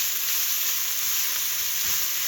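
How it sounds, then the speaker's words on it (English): Onions and green pepper fry in a pan with a loud, steady, close sizzle that holds without a break and has no talking over it. "Just going to keep frying until the onions"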